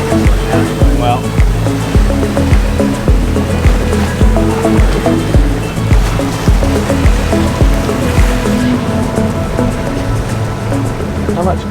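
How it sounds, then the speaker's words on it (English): Ocean water rushes and slaps against a sailboat punching into standing waves in a strong current at a pass in the Society Islands, loud and continuous, with people talking over it. "we've got a ripper of a current coming out, some standing waves for us to deal with"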